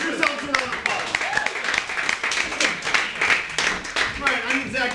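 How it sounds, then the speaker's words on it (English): Scattered applause and claps from the audience at a live improv comedy show, mixed with voices and chatter as the performers wrap up a scene, moderately loud and uneven. "Give yourselves a round of applause."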